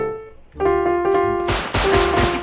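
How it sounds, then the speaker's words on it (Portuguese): Gunfire in the survival game Rust: bursts of shots crackle in from about halfway through, loud and dense against a steady droning musical tone playing in the background. "Alguém tá metendo bala"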